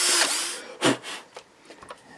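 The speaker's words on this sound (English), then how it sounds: "And we're just going down with a small drill bit." A small drill bit boring holes for pickups on a custom Les Paul guitar body, heard as a brief high whir followed by a short grinding burst and a few faint trailing ticks, close and fairly loud.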